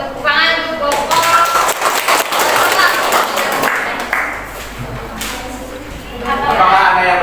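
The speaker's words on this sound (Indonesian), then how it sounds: "Tepuk tangan untuk Bapak." An audience in a biology teaching session claps together for a few seconds in a dense, lively burst, with voices mixed in among the applause.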